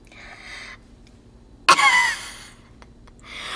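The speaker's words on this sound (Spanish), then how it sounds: "me dio tos por ese chile" A person gives one sudden, sharp cough after eating hot chili, loud and close, followed by a rough throat-clearing breath in an otherwise quiet space.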